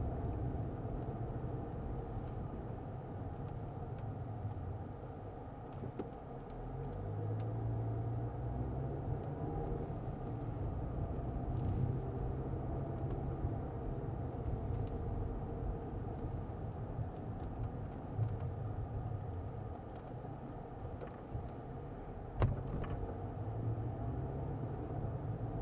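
A car drives at night through dark areas, giving a steady low road and engine rumble heard from inside for the whole stretch, with occasional faint clicks and no talk.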